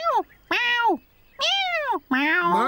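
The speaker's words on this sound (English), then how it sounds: "Meow." A cat in a children's cartoon meows four times, each a drawn-out, close, clear cry separated by brief gaps, with no other sounds around it.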